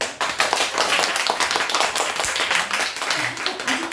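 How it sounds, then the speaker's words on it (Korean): A church congregation claps together during a sermon, dense steady hand claps filling the room for several seconds with a few faint voices underneath. "박수 한번 쳐주세요"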